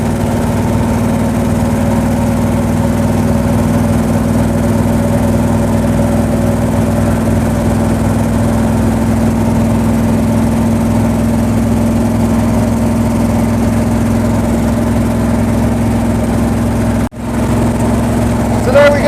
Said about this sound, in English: That's a ride in a Duzgo with one of the men who built them new and who still restores them today.